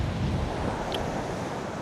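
Light wind blows steadily outdoors on a rocky hiking trail near Cairns, a continuous rushing buffet against the microphone, fairly loud and unbroken, with no voices.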